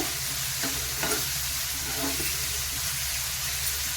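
Onion and tomato frying in a pan for a green gram and spinach stir-fry, giving a continuous close sizzle with a few soft stirring scrapes and no talking.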